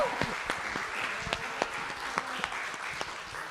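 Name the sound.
applause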